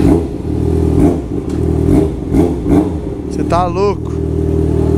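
Yamaha XJ6 motorcycle engine idling and blipping, a loud, close, low throb rising in several short revs, with someone speaking briefly over it near the end.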